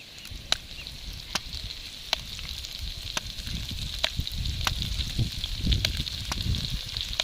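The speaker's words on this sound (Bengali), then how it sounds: "এবার আমি কড়াইতে তেল দিয়ে এগুলো ভেজে নেব" Semolina sitabhog dough grated into hot oil in a kadai, sizzling steadily throughout with sharp crackling pops scattered over a low bubbling bed, close and moderately loud, no voices.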